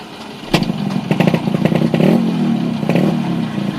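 A nearby Yamaha RX 135 six-speed motorcycle engine putters and revs unevenly, with clattering mechanical knocks and a brief rise in engine pitch.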